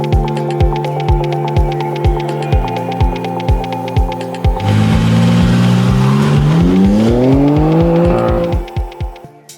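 A 2023 BMW M3 Touring Competition with a 3.0-litre engine and M xDrive revs loudly and close by. Several sharp blips lead into one long rising rev that climbs steadily, then cuts off into short popping decays, with no talk over it.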